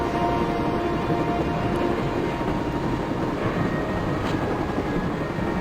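A train in the point-and-click adventure game Broken Sword: Shadow of the Templars rumbles steadily, a loud, continuous rolling roar with no break and no voices.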